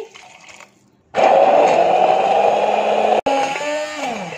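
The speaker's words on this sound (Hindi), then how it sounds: "इसे अच्छी तरह से ब्लेंड करके पेस्ट बना लेंगे" An electric kitchen blender grinds garlic, ginger and fried onion with half a cup of water into a paste for beef nihari. After a short quiet start it kicks in with a loud, steady motor whir, cuts out for an instant, then resumes at a shifting pitch.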